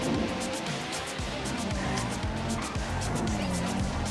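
A car in GTA 5 Online drives off, its engine revving in repeated rising and falling sweeps with faint tire noise, loud and continuous while someone talks over it.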